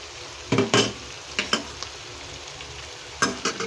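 An egg is stirred and fried in a pan, giving a few short scraping, sizzling bursts with quiet gaps between them, close by and alone.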